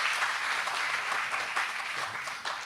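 Steady audience applause at a chemical engineering member group launch for Trinidad and Tobago, a continuous dense patter of clapping that eases slightly toward the end.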